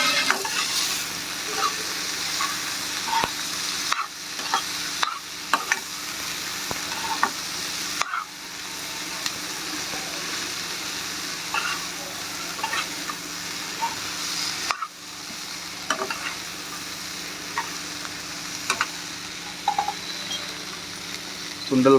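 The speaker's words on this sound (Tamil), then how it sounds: "வேக வச்சு சுண்டலை போட்டு தாளிச்சிக்கலாம் நல்லா." Boiled chickpea sundal being tempered in a pan for a Vinayaka Chaturthi puja: a continuous sizzle with frequent clinks and scrapes of stirring. Occasional voices talk over it.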